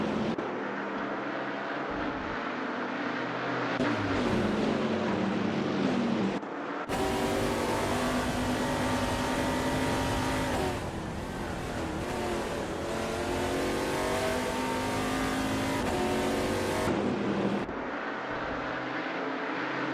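Several racing car engines rev and whine in a racing video game, with gear-shift pitch sweeps rising and falling continuously and loudly for the whole stretch, no talking.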